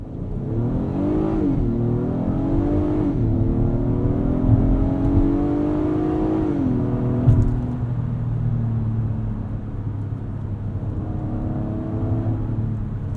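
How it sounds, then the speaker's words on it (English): A 2022 Acura MDX Advance SH-AWD with a 10-speed automatic accelerates hard from 0 to 60 mph at night. The engine note climbs and drops at three quick upshifts, then settles into a steady cabin drone, with no talk. "Let's do a quick 0 to 60,"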